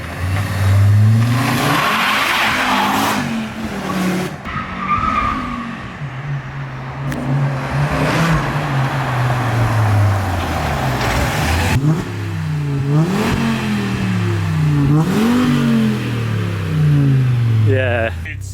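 A VW Caddy fitted with an Audi RS engine revs hard and drives off in the dark, loud close engine roar rising and falling through several throttle blips and gear pulls, with faint tyre squeal and occasional voices underneath.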